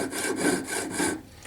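A fine hand saw rasps through a solid precious-metal ball gripped in a pin vise, producing steady back-and-forth strokes, about three close, even passes that stop near the end.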